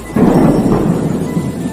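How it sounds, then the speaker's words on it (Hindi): A deep rumble of thunder rolls under a steady hiss of heavy rain in a cartoon, loud and close, fading slightly toward the end. "अचानक एक दिन तेज बारिश होने लगती है"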